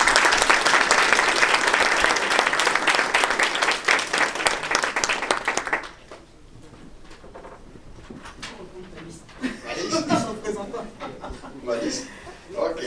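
Crowd at a political party representative's investiture in Montreal applauding a newly named team, loud sustained clapping for about six seconds that breaks off abruptly into chatter and scattered laughter.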